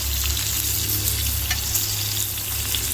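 Ribeye steak sizzles loudly and steadily in a cast iron pan as butter is spooned over the top, a dense frying hiss with a low hum beneath and faint spoon scrapes.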